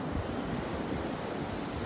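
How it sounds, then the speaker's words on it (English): Ocean surf breaking on an Outer Banks beach, a steady broadband wash of waves mixed with wind buffeting the microphone, continuous and fairly soft with no voices. "our friends, the surf, our friends, the waves among the surf"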